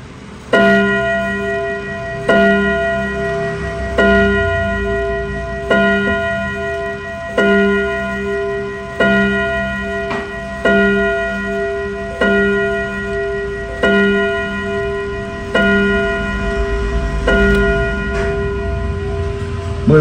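An Odo wall clock with a single gong strikes eleven times, each resonant, ringing stroke sounding loud and close at an even, unhurried pace and decaying slowly before the next.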